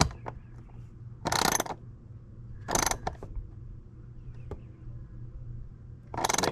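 Ratchet snugging down a spark plug wire fitting on a 2006 Yamaha Raptor 700R ATV, heard as three short bursts of rapid clicking spaced a few seconds apart, with quiet ticks in between.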